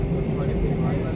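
Airplane taking off, heard from inside the cabin as a steady, loud, low engine roar with a broad rushing hiss that holds evenly throughout the short stretch.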